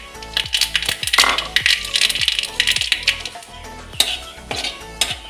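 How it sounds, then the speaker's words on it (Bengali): Dried red chillies and black mustard seeds go into hot mustard oil, with sharp metallic clinks and scrapes of a utensil against the pan over a crackling sizzle, close and fairly loud. "এই শুকনো লঙ্কা আর কালো সর্ষেটা আমি প্রথমেই দিয়ে দেবো ফোড়ন হিসাবে।"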